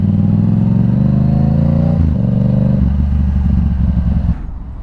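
Yamaha R7 motorcycle engine droning loud and steady while riding, with a gear-change dip around two seconds, then easing off and settling to a lower idle as the bike pulls over.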